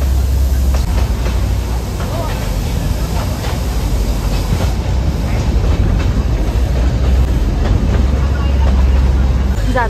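A train running on rails heard from inside the carriage, a loud continuous rumble and roar with faint rhythmic clicks from the wheels over the joints.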